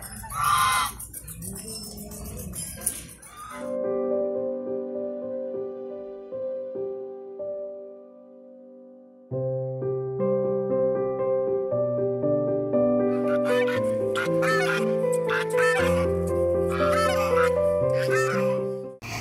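Chickens cluck among ducks, pigeons and turkeys at a resort farm near Karjat. A few close clucks come at the start, then music takes over.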